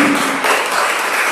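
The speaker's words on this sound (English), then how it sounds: "So I think a round of applause." A church congregation gives a round of applause for a parishioner's jam-making fundraising, a dense close clapping wash that holds steady from start to finish.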